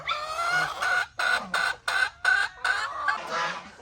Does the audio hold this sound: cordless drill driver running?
no